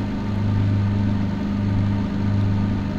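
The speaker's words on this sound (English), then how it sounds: "Still got the engines on." Vickers Vimy biplane engines idle on the grass after landing in Microsoft Flight Simulator 2004, a steady low droning hum with a faint throb, continuous and even.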